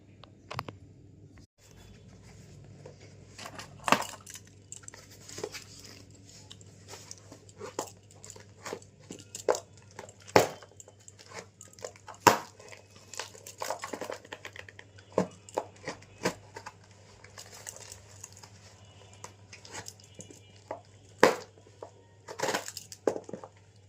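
A parcel is opened by hand in a kitchen, the packaging crinkling and tearing with many short, faint crackles and crunches spread unevenly over a low steady hum.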